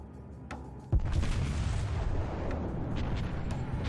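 Warspite battleship main guns firing in the naval video game World of Warships: a heavy, loud boom that rolls into a long, low rumble lasting several seconds, with a fainter thud just before it.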